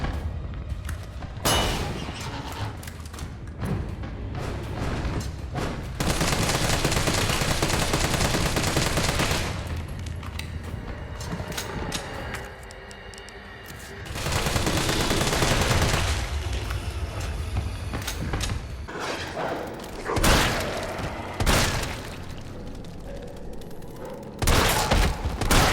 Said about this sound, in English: the guns didn't sound nearly as powerful as they should have